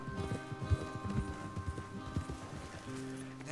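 Horse hooves clip-clop in a steady trotting rhythm over a low sustained musical drone, moderately close, from a black horse in the video game Red Dead Redemption 2.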